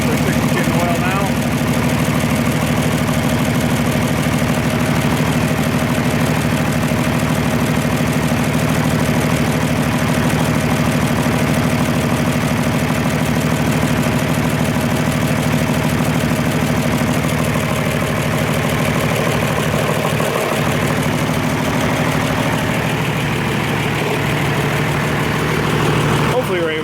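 An Oliver 1550 diesel tractor engine idles steadily at close range, a loud, even low rumble with a faint mechanical ticking running through it for the whole stretch.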